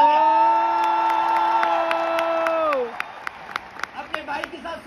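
Applause and scattered cheers from an audience at a motivational testimony event in Delhi, clapping sharp and rhythmic beneath a sustained musical tone that cuts off midway, leaving the clapping and whoops to continue more loosely.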